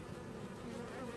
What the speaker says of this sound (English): The bees don't like it if you blow on them or breathe on them.